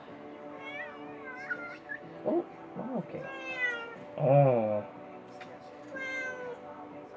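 A pet cat named Impala meows several times, with a few short drawn-out cries and one louder wail near the end, close to the microphone while a woman murmurs softly in between.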